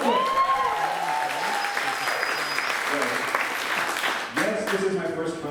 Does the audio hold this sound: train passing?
no